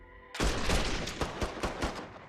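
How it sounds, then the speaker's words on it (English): Gunfire in the video game Mafia III: a sudden burst of rapid, loud shots that continues as a dense volley of repeated cracks and booms, with no speech. "Gunfire!"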